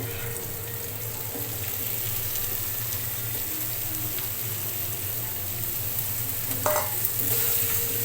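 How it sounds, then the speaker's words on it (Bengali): Spices for a raw jackfruit curry fry and get stirred in a pan, a continuous soft sizzle with light scraping strokes close by and a few louder clinks near the end. "আর একটু কষতে হবে মশলাগুলো দেখুন অনেকটাই কষানো হয়ে গেছে মশলা"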